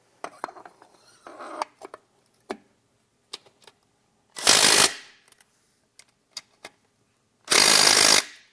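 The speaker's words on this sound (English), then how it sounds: "We're going to be installing the flywheel using the factory bolts." Factory bolts are run down on an LS1 flywheel in a crisscross pattern: scattered metallic ticks and clicks alternate with two loud bursts of a power or ratchet tool, each lasting under a second, close up and without talk.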